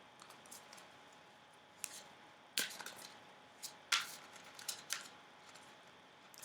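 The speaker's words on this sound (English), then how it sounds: "Which is a bit of a nightmare to shuffle because they're very new." Hands shuffle a new, stiff Tantric Dakini Oracle card deck, making faint, crisp snaps and riffles at irregular intervals in a quiet room.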